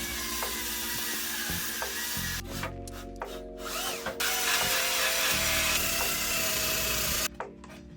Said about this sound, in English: I attacked it with a drill and a brass brush.